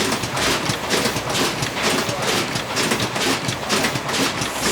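A steady mechanical clatter with a fast, regular beat, loud and continuous, from a toothpaste tube factory machine running on a line.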